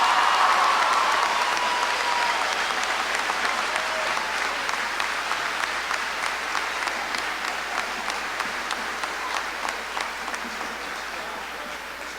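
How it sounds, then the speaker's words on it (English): An audience at a school promotion ceremony applauds the graduating Dodd class of 2019, dense clapping that is loud at the start and fades slowly over about twelve seconds in a large room. "How about a nice round of applause for our Dodd class of"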